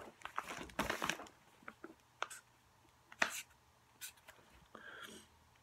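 A pen scratching out the numeral five on paper, a few short dry strokes with brief pauses between them, close and fairly quiet with no talking.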